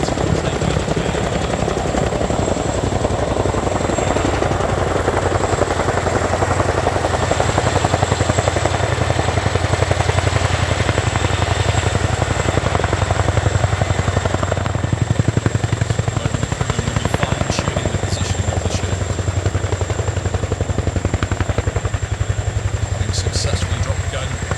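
Royal Air Force Chinook HC.5 twin-rotor helicopter in a flying display at RIAT 2024, a loud, steady, close rotor thud and turbine roar that continues without a break, with a commentator talking over it.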